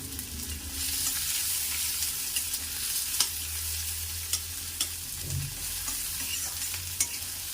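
Chopped onion and garlic fry in hot oil in a pan for an egg and pointed gourd curry, giving a steady close sizzle broken by scraping stirs of a spoon, with no talking.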